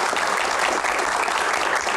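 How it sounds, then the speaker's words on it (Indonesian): Audience applause at a Q&A session, dense continuous clapping filling the room steadily and loudly from start to end, with no voices audible over it. "tepuk tangan untuk Pak Arsyad."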